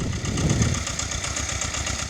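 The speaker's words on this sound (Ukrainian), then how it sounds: "Шум трактора глушить періодичні звуки пострілів з боку кордону" A tractor engine runs steadily up close in a rural village near the border, a rumbling low chug with a fast, even knocking pulse and no pauses or voices.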